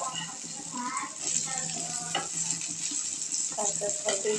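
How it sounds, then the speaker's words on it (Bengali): Sliced brinjal fries with a continuous close sizzle in a pan, broken by occasional spatula scrapes and clinks, with talking over it. "এক পাশ ভাজা হয়ে গেছে, আরেক পাশ উল্টে দেওয়া হচ্ছে,"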